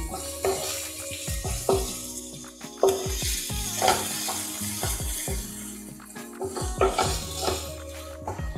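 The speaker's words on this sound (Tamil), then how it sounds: "இப்போ வெங்காயம் வந்து வதங்கிடுச்சு." Onions cooking in a pan for masala egg bhurji, a soft sizzle broken by irregular stirring scrapes and clinks of a spoon on metal, moderately close and without speech.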